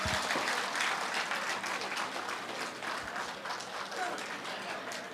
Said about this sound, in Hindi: तो प्लीज़ इस छोटी सी बच्ची के लिए ज़ोरदार तालियां हो जाए।